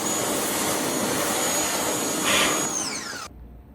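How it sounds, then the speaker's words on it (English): A pressure washer sprays a child's play table with a loud, continuous hissing rush of water and motor, which rises briefly before stopping abruptly. "the pressure washer is plenty strong to cut through grime on a child's play table"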